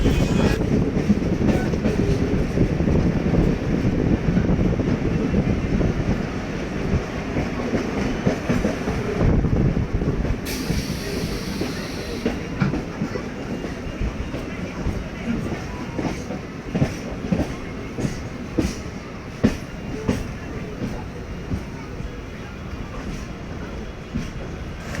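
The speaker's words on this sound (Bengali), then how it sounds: "ওই যে দেখা যাচ্ছে বন্দে ভারত এক্সপ্রেস।" A Vande Bharat Express train passes near Howrah station in West Bengal, heard from close by. Its steady, loud rumble carries rhythmic wheel clicks and continues for the whole stretch.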